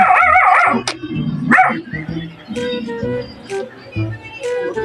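A dog barks and yips several times up close, loud and sharp, with a few softer whimpering sounds between the barks.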